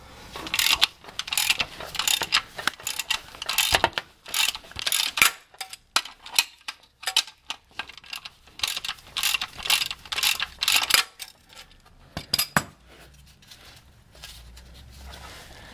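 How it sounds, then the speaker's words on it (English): A large wrench ratchets a loosened bolt counterclockwise during a transmission job on a Mazda 626, giving rapid, close metallic clicking in repeated bursts with short pauses, and no speech. "When it's loose, just use a regular large wrench."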